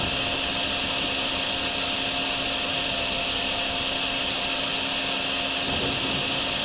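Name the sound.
vacuuming up floodwater in the video game Drain Sim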